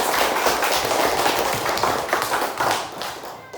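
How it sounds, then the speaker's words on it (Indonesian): Close, loud clapping from a group during a classroom science demonstration about melting ice, a brisk mix of many hands with irregular sharper slaps and thuds, continuing throughout. "tepuk tangan semuanya buat saya"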